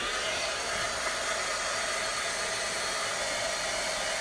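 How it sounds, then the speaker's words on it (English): A heat tool blows steadily to dry wet ink on a Halloween card, a continuous close airy roar with an even, unbroken hiss from start to finish and no voices. "I might hit it with my heat tool"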